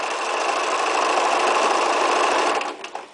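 A sewing machine runs fast under foot-pedal control during free-motion machine appliqué, giving a dense, even mechanical whir for most of the stretch before slowing and stopping near the end.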